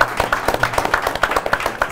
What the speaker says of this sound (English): We need an applause for that.